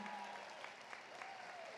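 Steady clapping from a crowd at a nursing school pinning ceremony, as guests stand and applaud, dense and even but faint and distant throughout.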